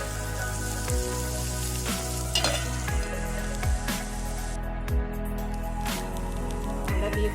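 Beef fry with onions and coriander sizzling loudly and evenly in a pan over a low to medium flame, with periodic stirring knocks recurring about once a second.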